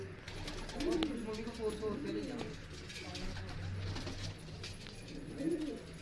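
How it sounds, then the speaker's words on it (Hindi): Sialkoti pigeons, an old breed kept in a home breeding setup, give low soft coos that rise a few times against steady background noise and some faint talk. "आरसपुरा के मशहूर नस्ल जिसे हम बोल सकते हैं सियालकोटी कबूतर।"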